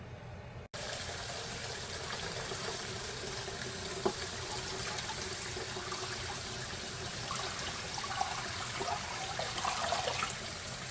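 Tap water pouring into a canning pot over jars, a continuous splashing gush after a brief click at the start, steady and close with occasional small knocks.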